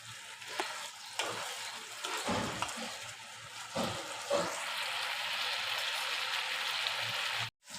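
Spice paste for a sattvic chhana dalna frying in oil that has separated, with irregular crackles and stirring scrapes early on, then a steadier hissing sizzle near and moderately loud, ending in a brief cut.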